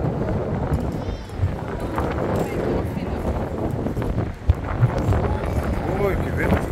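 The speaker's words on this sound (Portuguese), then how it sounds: "Ui, que vento forte, cara." Strong wind blusters across the microphone on the Hercílio Luz Bridge in Florianópolis, a constant rough rumble with gusty swells and a couple of sharp knocks, while someone talks throughout.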